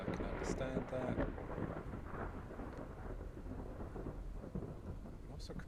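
Steady rain pours throughout in the sci-fi horror game Stasis, with a couple of sharp thunder cracks early on and a low rumble rolling beneath, all fairly loud and continuous with no voices.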